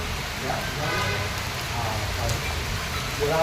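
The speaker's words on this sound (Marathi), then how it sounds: "तुम्ही या ठिकाणी बघू शकता पाऊस चांगला कोसळतोय" Heavy rain falling steadily on a garden in Govind Nagar, Nashik, a dense, even wash of drops on surfaces, close and constant with no wind, a voice talking over it.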